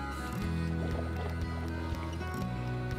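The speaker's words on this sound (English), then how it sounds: "I'm going to start with a diagonal draw and then go right into a J-stroke." Canoe paddle working the water through a diagonal draw followed by a J-stroke, with soft repeated splashes and swishes close by over a steady low rumble of wind or water, no talking.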